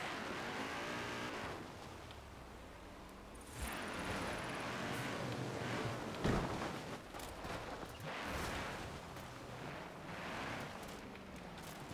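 Trucks driving in a video game, engines droning and revving as they speed along, with wind-like rushing and an occasional knock, steady and fairly quiet.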